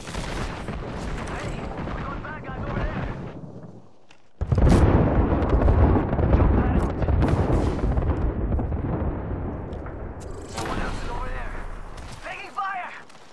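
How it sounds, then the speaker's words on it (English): Airstrike explosions in a shooter game rumble loudly and continuously after a sudden heavy onset, with dense booming blasts layered over one another and voices talking over parts of the barrage. "Airstrike coming in"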